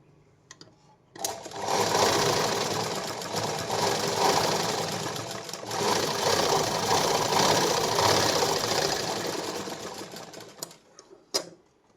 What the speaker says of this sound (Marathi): आपण याला काय करायचं आहे डबल शिलाई मारून घ्यायची